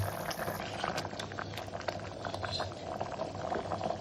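Avarekaalu lentil curry bubbles at a steady boil in a pot, a continuous close, soft popping and gurgling with no talk.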